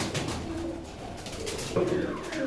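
Pigeons in a loft of Laldum, Kaldum and homer birds give soft, close coos that repeat and overlap over a low background.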